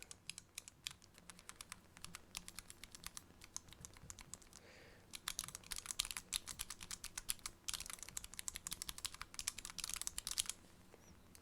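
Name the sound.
pressing keys on a mechanical programmable gaming keypad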